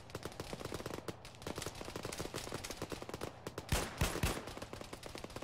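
Rapid, continuous gunfire from a tower in the video game Arma 3. Dense automatic bursts crackle throughout, with a couple of heavier, booming shots near the end.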